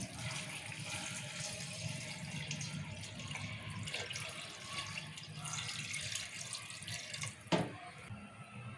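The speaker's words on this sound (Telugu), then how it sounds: "ఇప్పుడు వాటర్ పోసుకున్నాం" Water pours steadily into a pot, a continuous splashing rush close by, ending with a brief clunk.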